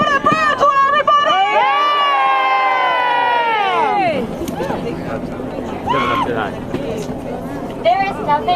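A rally crowd protesting budget cuts to public schools cheers loudly, opening with a sustained, tonal, chant-like roar for about four seconds, then breaking into a looser, noisy mix of shouts and hubbub.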